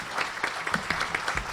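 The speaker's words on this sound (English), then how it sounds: "we can give our panelists a round of applause" Audience applause for the panelists at a Chesapeake Bay restoration panel discussion: a steady, moderately quiet wash of many hands clapping, with individual claps popping out irregularly throughout.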